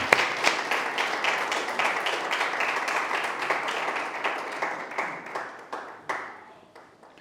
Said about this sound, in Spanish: Démosle ahora sí un aplauso al Señor